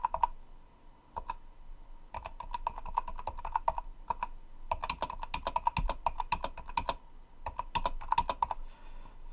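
Someone types a password on a computer keyboard: bursts of crisp key clicks, near and fairly loud, with short pauses between groups of keystrokes and no talking.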